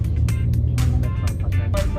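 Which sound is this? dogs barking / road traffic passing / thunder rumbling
road traffic passing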